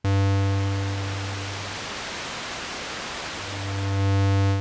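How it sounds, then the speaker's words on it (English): The noise oscillator of a Moog Mother 32 synthesizer produces a steady, loud hiss of white or pink noise. A low electrical hum sits under it at the start and end and fades out in the middle. "You can hear a nice kind of white or pink noise there"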